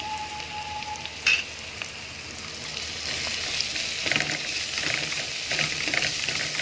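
A spoonful of garlic hits hot oil in a pan while cooking okra, a steady crackling sizzle with sharp bursts as it lands and is stirred, spattering grows busier toward the end.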